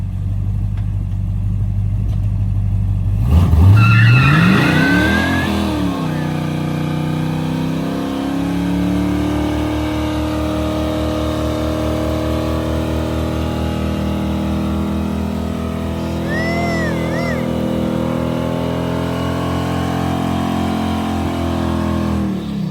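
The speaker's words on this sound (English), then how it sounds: "Well, it still does a burnout." Chevy S10 pickup truck engine revving hard during a tire burnout, a loud sustained roar that rises sharply then holds a steady high-revving drone for about twenty seconds, with no talking.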